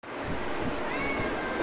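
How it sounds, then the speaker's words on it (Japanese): A cat gives a faint, thin meow outdoors, partly buried under steady wind and ambient noise. "猫ちゃん。"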